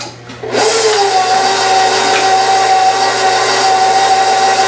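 An electric mixer starts up after a brief pause and then runs at a loud, steady whine, churning peanut butter banana chocolate chip quinoa bread dough close by, with no talking.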